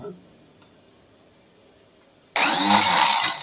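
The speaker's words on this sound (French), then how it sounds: "Le démarreur tourne, mais comme j'ai pas mis le relais, j'ai pas l'enclenchement du solénoïde" Car starter motor wired directly and cranking without the relay or solenoid engaging, a sudden loud whirring burst after a quiet hum, lasting about a second.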